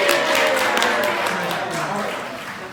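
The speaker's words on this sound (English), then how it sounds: "Give Michael a round of applause, everybody." A crowd applauds a volunteer named Michael at a Polar Express holiday show with Santa, steady broadband clapping that holds for the whole stretch and slowly tapers, with some voices mixed in.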